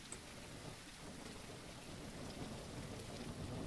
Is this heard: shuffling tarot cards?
no